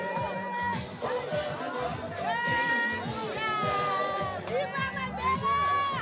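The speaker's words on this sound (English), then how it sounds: "a much smaller crowd turned up at the prison to celebrate" A small crowd gathers at a South African prison to celebrate the 25th anniversary of Mandela's release, with voices cheering, chanting and shouting together in a lively, continuous swell of sound, fairly near.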